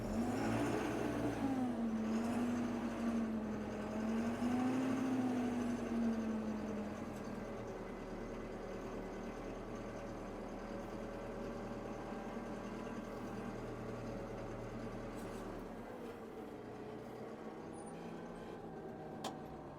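A DTZ 1204 tractor with a 7.5-litre engine drives forward in a low gear. Its engine gives a loud, steady drone whose pitch wavers early on, then settles and eases slightly toward the end.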